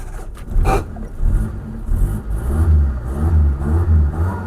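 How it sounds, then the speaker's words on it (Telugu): A used Zen car's engine turns over and catches, then revs up and down a few times in short surges, loud and close. "ఇంజిన్ కూడా మీకు స్టార్ట్ చేసి చూపిస్తాను చూడండి"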